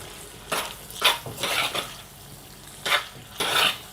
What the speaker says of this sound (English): The other part I'm going to do it on the plate, so I'm just gonna stir this up a bit.